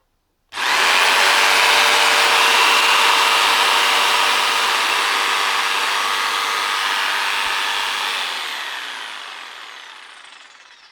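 A Bosch PST 670 electric jigsaw runs steadily at close range, a loud continuous buzzing whine that starts abruptly and slowly fades at the end.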